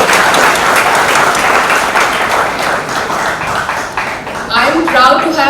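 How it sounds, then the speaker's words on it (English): Loud, dense applause from a large crowd, steady throughout, with some cheering near the end. "a big round of applause for all of you"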